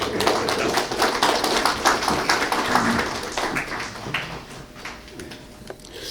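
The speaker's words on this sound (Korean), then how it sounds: "여러분 힘찬 박수로 맞아주십시오" Audience at an award ceremony applauding, a dense, steady wash of many hands clapping that carries on for several seconds and slowly thins toward the end.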